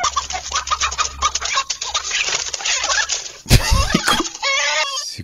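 Chickens fighting: agitated squawks and cackles in a rapid, overlapping flurry, with a few sharp harsh cries standing out near the end.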